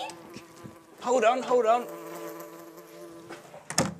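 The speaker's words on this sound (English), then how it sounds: "Go away, bee! Don't sting me!" An insect buzzes in a cartoon-style scene, a wavering drone rising and falling for about a second amid children's-show dialogue, with a voice speaking briefly and a sharp knock near the end.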